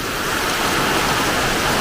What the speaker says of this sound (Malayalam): നന്നായിട്ട് പെയ്യുന്നുണ്ട്. കുളത്തിനകത്ത് വെള്ളം വീഴുന്നുണ്ട്.